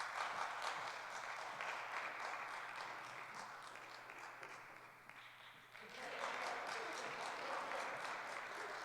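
An audience at a university philosophy society talk applauds to welcome a student speaker, a sustained wash of clapping from many hands that dips briefly midway and then swells again.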